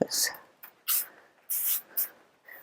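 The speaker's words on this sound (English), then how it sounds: "My paint is starting to dry, so I'm going to mist it." Several short, airy bursts of fine mist spray come in quick succession, separated by brief pauses, close and fairly soft.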